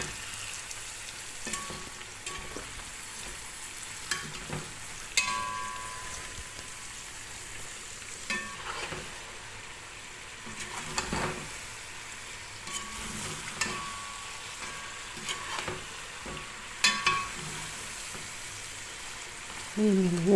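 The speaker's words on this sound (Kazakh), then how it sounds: "Тұзымызды салып, жақсылап 10 минуттай қуырып аламыз." Onions and carrots fry with salt in a pan, giving a soft, continuous sizzle with scattered spoon clicks and stirring sounds at a moderate distance.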